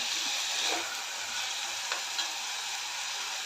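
Potatoes and a green chili sizzle and are stirred in a frying pan while a chickpea and potato curry cooks, a steady hiss with a few soft scraping stirs and no talk.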